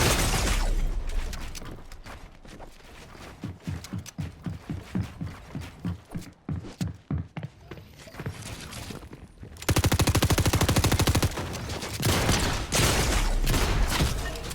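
Gunshots in Fortnite crack in a quick rhythmic string of close, punchy reports through the middle, then give way to a denser, steady roar of gameplay noise at the end.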